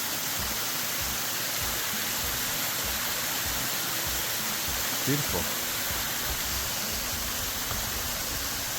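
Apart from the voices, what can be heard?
waterfall seen from a bridge on the trail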